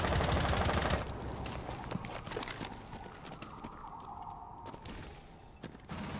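Gunfire in a Rainbow Six Siege Terrorist Hunt match: a dense burst of shots opens the moment, then scattered single cracks and rattles continue over a steady background rumble.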